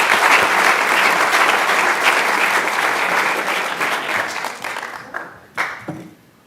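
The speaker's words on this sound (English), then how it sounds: "So, round of applause." A crowd of parents and kids claps steadily at a youth sports end-of-season celebration, the applause holding strong for about four seconds before thinning out into a few scattered final claps.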